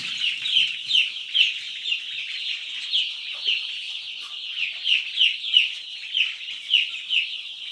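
Young chickens peep and cluck continuously in a rhythmic, overlapping chorus, close by, with no talking.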